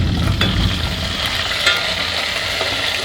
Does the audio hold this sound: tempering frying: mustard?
yes